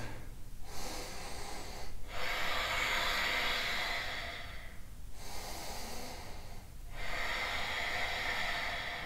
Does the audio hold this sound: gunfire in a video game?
no